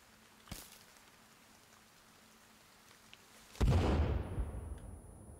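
A bomb goes off in the survival video game Sons Of The Forest. A sharp, heavy blast bursts out loud and close, then rolls and fades over about two seconds. A fainter thump is heard earlier, over a quiet background with no talking.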